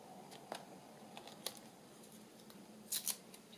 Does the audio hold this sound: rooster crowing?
no